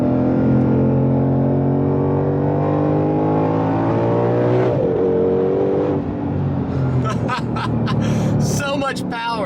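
A 760 hp 2020 Ford Shelby GT500 engine revs loudly up and down through downshifts, with a rising and falling roar and a sharp blip midway, followed by a rougher burst near the end.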